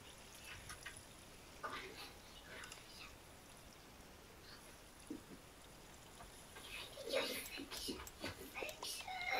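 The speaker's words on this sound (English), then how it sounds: "My kids are having an argument, whispering." Children argue in hushed whispers somewhere in the background, breathy sibilant bursts coming and going irregularly, growing busier toward the end over a faint, quiet room tone.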